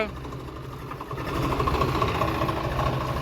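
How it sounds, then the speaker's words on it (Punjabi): A sand-hauling tractor with a chain hung underneath runs with a steady low engine drone that grows louder partway through, while voices talk over it. "ਆ ਮੁੰਡੇ ਦਾ ਟਰੈਕਟਰ ਆ"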